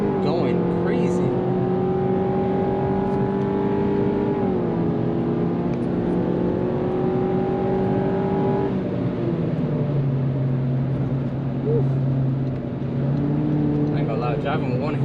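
Volkswagen Golf engine revving hard at a night car meet in New York City, a loud sustained roar rising and falling in pitch, with voices talking over it.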